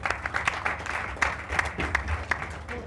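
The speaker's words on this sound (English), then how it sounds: "Please, can we make that clap louder?" Audience applause at an Anambra State governorship debate, a loose crowd clapping with scattered sharper claps standing out over a low hum, moderately loud and steady for a few seconds.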